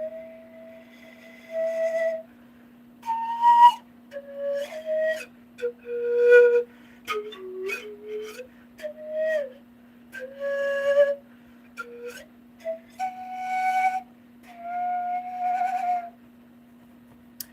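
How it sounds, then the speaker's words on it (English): A bamboo pan flute plays a slow, breathy melody of separate held notes and short phrases, alone and fairly close, over a faint steady background hum. "the pan flute. It's like it doesn't necessarily feel like any other instrument, or even just like an orthodox flute, because it's like it's made out of bamboo"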